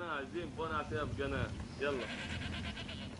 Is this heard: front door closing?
no